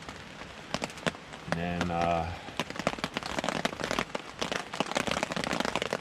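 Steady rain patters and crackles on a tent or truck surface at a Shenandoah campsite, sharp drops landing close by throughout, with a brief low engine-like hum in the middle and a short spoken word.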